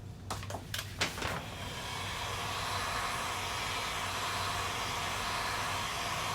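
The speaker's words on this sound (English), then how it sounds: "I'm going to put my heat gun on it, let it dry for a second" A heat gun blows steadily to dry Voodoo Stain on a wooden moulding, a continuous broadband hiss that starts after a few brief clicks and holds at an even level to the end.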